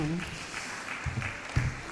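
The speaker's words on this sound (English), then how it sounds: "Another round of applause for him." A crowd at a science and technology fair applauds, a fairly faint, diffuse patter of clapping, and a voice carries over the start and a few louder sounds break through near the end.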